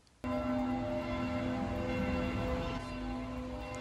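A church bell in Montreux, Switzerland, heard from a hotel room, rings out loud and sustained, its tone humming steadily after a sudden strike, with no voices.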